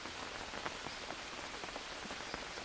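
Steady rain patters and hisses in the Green Hell survival video game, drops falling continuously around a roofed hut with a mud floor, an even wash of close, moderately loud rainfall with scattered louder drop ticks and no talking.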